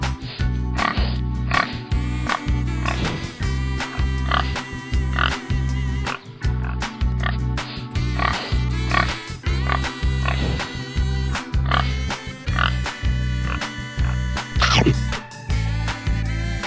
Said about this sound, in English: pigs can communicate with each other using more than 20 different sounds